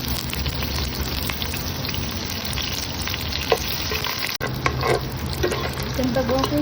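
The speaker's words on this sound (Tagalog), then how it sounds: "sisutay lang natin itong sibuyas" Onions sautéing in hot oil, a dense continuous sizzle like light rain with stirring scrapes and occasional clicks of the utensil, close and fairly loud.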